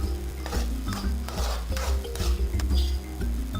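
A utensil stirs fried tomatoes in a pan for a chutney, scraping and clinking against the metal in repeated strokes, close and clear over a low steady hum.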